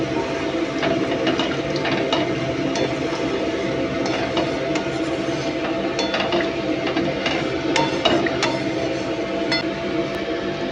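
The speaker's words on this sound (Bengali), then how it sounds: "এবার পরিমাণ মতন জল দিয়ে দেব।" Water is poured into a pan of fish-roe fritter curry with potatoes in a home kitchen, a steady close splashing gush with scattered clinks and metallic ticks running throughout.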